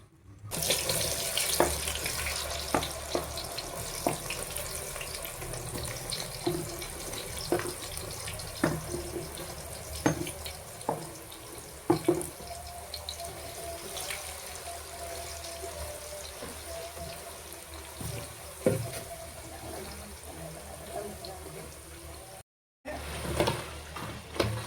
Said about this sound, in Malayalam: ഇനി നമുക്കിത് എണ്ണയിലോട്ട് ഇട്ട് കൊടുക്കാം.